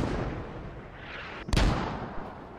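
A single mortar round lands in the military shooter Squad: a sharp, fairly distant crack and thud rises abruptly out of steady background wind and battlefield hiss, then trails into a fading rumble.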